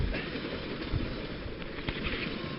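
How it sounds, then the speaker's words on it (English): A fast-moving train passing, with a steady broadband rumble and rattle of rail cars and a couple of brief sharper clacks, continuous and fairly loud throughout, with no talking. "Maybe that's why the train's going so fast, as you can hear."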